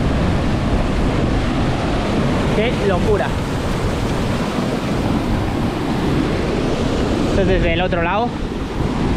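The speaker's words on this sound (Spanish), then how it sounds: "y la cascada, chaval." Waterfall at Diyaluma Falls, one of Sri Lanka's tallest, with pools below, heard as a steady loud broadband roar of falling water close by, with brief talk over it and wind buffeting the microphone.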